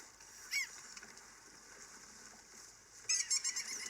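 A bird honks a few times, faint and distant: one short honk early, then a quick cluster of honks, over a quiet outdoor hiss.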